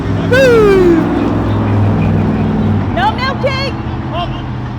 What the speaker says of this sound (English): the main road there. Cars coming up and down all day.